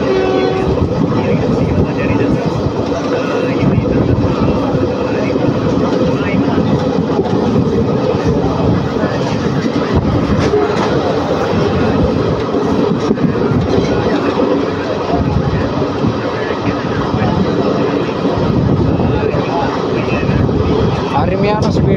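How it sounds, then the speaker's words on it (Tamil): Palakkad–Tiruchendur express train gathering speed on the Dindigul to Tiruchendur line, a loud, steady rumble and clatter of wheels and carriages filling the whole stretch, with a voice talking over it. "கலை வண்டி அப்படியே இப்போ ஸ்பீட் எடுக்குதுங்க நல்லா."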